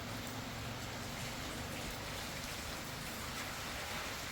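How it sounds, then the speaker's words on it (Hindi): Heavy rain falls in the Himachal Pradesh mountains, a steady even hiss of drops on surfaces that holds fairly faint and constant throughout. "तो गाइस बारिश फिर से तेज हो गई है"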